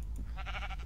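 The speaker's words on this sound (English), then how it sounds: "Sheeps." A sheep bleats in Minecraft, one short wavering cry over a low background hum.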